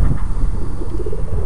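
An unmated cock pigeon coos in a new coop, a low, throaty, rolling coo heard close and loud with no talking over it.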